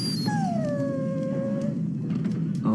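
A dog in Dragon Age: Origins lets out a long, drawn-out whimpering whine that slides downward and fades, then a short yip near the end, close and clear over a low ambient drone.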